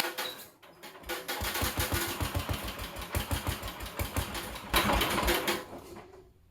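A Sears garden tractor engine cranked from a booster pack with the throttle down and a little choke, sputtering into a rapid, rhythmic chugging that surges louder, runs briefly, then falls quiet near the end.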